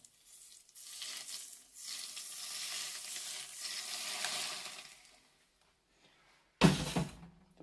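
Hot sunflower oil poured over a raw salad of bell pepper, tomato, cabbage and carrot hisses in a steady sizzle for several seconds, fades out, then a sudden loud burst of crackling follows.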